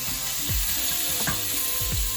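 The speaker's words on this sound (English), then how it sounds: "you can start to cook the meat" Beef for a Philly cheese steak fries in oil as a loud, constant sizzle close by, with a few dull knocks and scrapes of a wooden spoon breaking up the meat.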